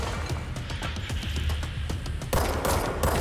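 Rapid gunfire rattles during a boss fight against Tommasi in Control, a fast string of sharp close shots followed by a louder crashing impact burst.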